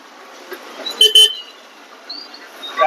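City road traffic with a car horn giving a short double toot up close, a few fainter honks later, and a quiet roadway hum underneath, with no voices.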